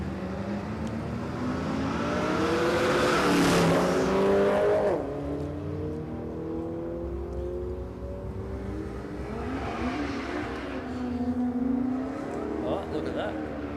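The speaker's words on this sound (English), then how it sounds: "780 for Michael Voss, the Pontiac Trans Am" A Pontiac Trans Am and a Falcon drag racing at Warwick Dragway, loud engines roaring and revving as the cars launch and pass, with a commentator talking over them.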